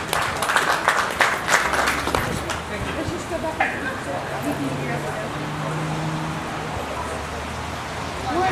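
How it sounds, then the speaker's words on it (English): Crowd applause at a youth goat show, a burst of clapping for a young exhibitor that fades after about three seconds, followed by a low hum of arena ambience and scattered voices. "Let's give the young man a round of applause."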